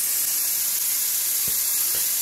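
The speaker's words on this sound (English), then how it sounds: "I got a little bit of compressed air blowing on it now" Compressed air blows continuously onto a freshly laser-cut part from a desktop CO2 laser, a steady close hiss with a couple of faint knocks underneath.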